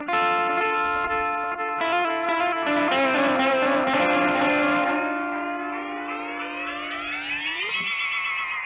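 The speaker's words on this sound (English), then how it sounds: "I tend to sort of just use this pedal then to sort of throw in little lead parts" Heavily processed electric guitar lead with echo and chorus, notes ringing into one another, then a long sliding pitch bend rising at the end.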